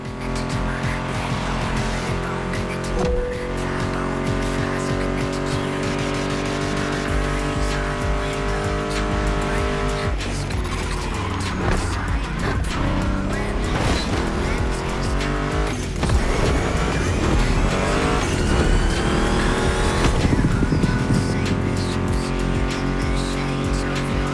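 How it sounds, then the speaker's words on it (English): Loud revving muscle car engines, including a Mustang GT, in the video game The Crew Motorfest, with tire squeals and skids over a steady music backing, engines rising and shifting through gears throughout. "Meshes well with the sound of the engines"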